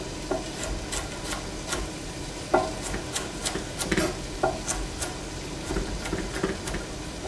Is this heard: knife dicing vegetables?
yes